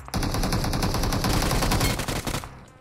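Rapid, continuous automatic gunfire from the BGMI/PUBG battle royale game, loud and close, dense bursts rattling for over two seconds before tapering off, with no voices.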